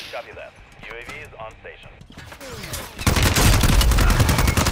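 Loud, dense gunfire erupts from the Call of Duty video game, a sustained burst of rapid shots and blasts that takes over after earlier voices talk over quieter game sounds.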